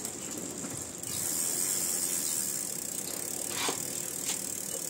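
A Shimano rear derailleur on a Hummer dual-suspension mountain bike ratchets and clicks through gear shifts, a steady close mechanical whirr of freewheel and chain with a few sharper shift clicks.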